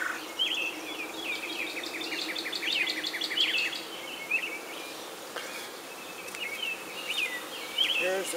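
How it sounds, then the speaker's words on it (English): Honeybees in an opened beehive box keep up a steady, close buzz throughout, with no speech. "watch the bees a bit now."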